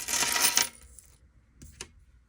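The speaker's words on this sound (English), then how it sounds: "these are the coins that were in my purse, just loose change. So I'm about to go ahead and put this in the jar now." Loose change from a purse is tipped into a jar: a loud, dense burst of clinking coins for about half a second, then two brief, fainter clinks as the last pieces settle.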